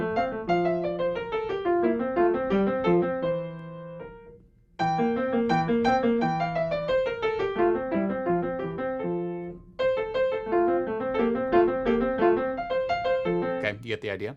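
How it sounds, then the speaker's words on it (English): Piano plays a short Beethoven sonatina, bright phrases of melody over simple accompaniment, broken by two clear pauses where the sound dies away before resuming, close and moderately loud. "This is a little sonatina by Beethoven."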